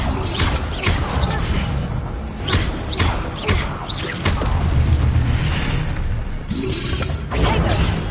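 A fire spell, Incendio, cast repeatedly in Hogwarts Legacy combat, with bursts of whooshing flame, thuds and crashes in a dense, loud battle mix, and short vocal interjections mixed in.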